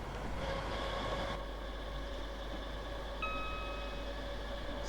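A Class 325 electric train running on third rail in Train Sim 2020 gives a steady, loud rolling drone with a hum that holds throughout, and a sustained high whine or tone comes in near the end.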